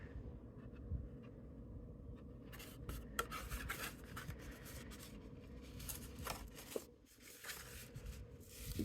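Paper card tabs on a cracker-topped gift box folded down by hand, giving soft rustling and creasing scrapes in a quiet, steady stream with a few sharper crinkles.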